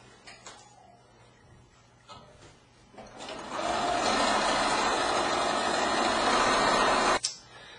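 Sewing machine running steadily as it stitches a zigzag along a pillowcase edge, a loud continuous mechanical whir for several seconds after brief quiet handling noises, then stopping abruptly.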